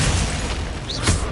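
Confringo fire spell going off in Hogwarts Legacy, a loud, dense booming blast that rumbles continuously through the short moment, with a brief whooshing flare near the end.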